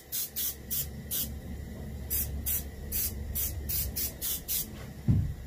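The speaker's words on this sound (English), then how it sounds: "And we spray basically the upper two thirds of the fish." Chocolate brown paint sprayed from an airbrush onto a reproduction warmouth fishing lure, short hissing bursts starting and stopping in uneven groups, close and fairly quiet, with a brief soft knock near the end.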